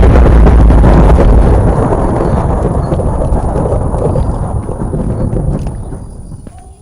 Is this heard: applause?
no